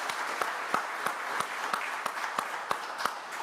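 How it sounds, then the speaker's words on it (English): Members of a church congregation clap at a service, the claps landing in a slow, evenly spaced beat against a soft wash of room sound at moderate distance. "Let's have a round of applause"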